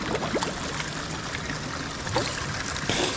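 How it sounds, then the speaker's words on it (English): Water trickling steadily into a deep pool on the Pacific Crest Trail near Big Bear, a continuous close splashing wash with faint speech in the background. "there's some water trickling down here"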